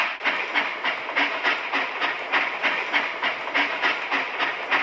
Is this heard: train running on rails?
yes